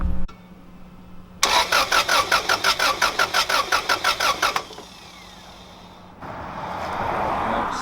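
A car engine cranks over steadily for a compression test, about a dozen rhythmic starter pulses lasting three seconds, loud and close, then stops, leaving low background noise and a later rush of broadband hiss.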